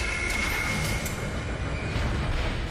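A tram runs through a transit tunnel in the sci-fi horror game Dead Space, a dense continuous rumble and rattle with a faint high whine, loud and steady throughout.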